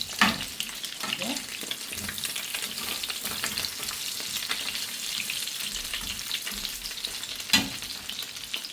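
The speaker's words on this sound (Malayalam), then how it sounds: "ഇതേപോലെ കുറച്ച് ഓയിൽ ഒഴിച്ചിട്ട് ഇങ്ങനെ മുരിച്ചെടുത്താൽ മതി" Chicken bites fry in a little oil in a pan, giving a steady, close, full sizzle that continues throughout, with occasional stirring and clinks; no talk is heard.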